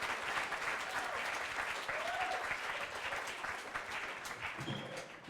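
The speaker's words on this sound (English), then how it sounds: "Big round of applause for Guido." An audience at a debate event breaks into sustained applause, a dense, steady wash of clapping that holds for several seconds and tapers slightly near the end, with no talking.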